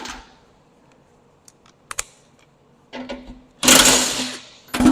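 An impact wrench on an Allis Chalmers WD-45 tractor fires in short sharp bursts, then a longer loud rattling run near the end, with quiet gaps between.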